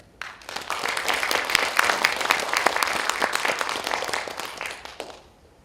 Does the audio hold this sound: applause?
yes